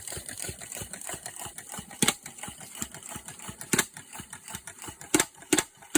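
A small Stirling engine turning a big fan chugs along with a steady, rapid mechanical ticking and occasional louder clacks, quiet and close, with no talk.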